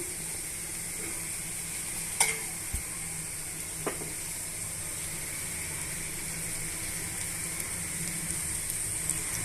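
Garlic cloves frying in a pan give a steady, even sizzle and hiss throughout, with a few faint clinks and scrapes as they are stirred.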